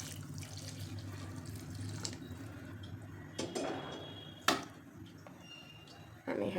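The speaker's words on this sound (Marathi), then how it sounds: "आता आपण गरम केलेले पाणी ते घालायचे." Heated water poured into a pot of spicy kat amti, a soft continuous stream of running water with a few brief knocks and clatters, close but fairly quiet, no talking.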